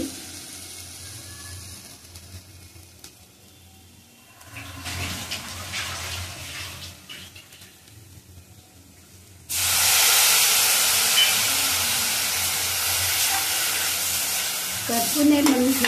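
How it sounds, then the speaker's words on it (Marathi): Satputi monsoon greens cooking in a pan with a stirred, frying crackle that jumps into a loud, steady hiss and sizzle as a splash of water hits the hot pan, with no talking. "करपू नये म्हणून थोडं पाणी टाकलं."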